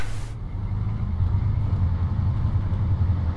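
Heavy vehicle engine drones steadily while driving in a military video game, a dense low rumble with faint mechanical rattle, loud and continuous throughout.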